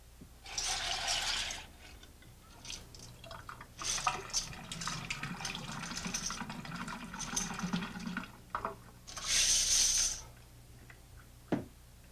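Metal bottle caps being rinsed in sulfite solution for beer brewing, with running and splashing liquid, metallic rattling of caps and a loud pouring burst near the end, no speech.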